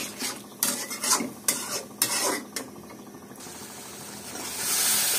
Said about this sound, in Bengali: দেব লবণ, দেব হলুদ, দিয়ে সবগুলো একসাথে ভালোভাবে কষায় নেব